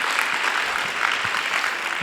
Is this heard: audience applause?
yes